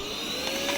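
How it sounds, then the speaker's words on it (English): A vacuum cleaner runs steadily while cleaning a Brother 1034d serger, giving a close, constant broadband rush with a thin high whine over it for the whole short moment. "I say give it one more go with the vacuum."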